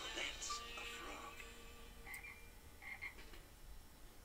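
A frog croaks in a few short, bright bursts spread over a few seconds, fairly faint against a quiet, hissy background with no talking.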